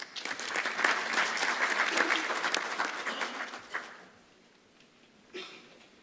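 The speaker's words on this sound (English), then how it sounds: "A round of applause for him, please." An audience at an African engineering conference claps for an acting CEO. The applause is dense and steady for nearly four seconds, then fades, with a few scattered claps trailing at the end.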